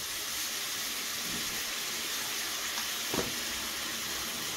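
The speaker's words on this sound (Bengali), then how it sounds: "এবার জলপাইটা একটু ফুটুক" Olive chutney with added water simmering in a pan, a steady soft bubbling hiss running throughout with one brief louder pop near the end, no talking.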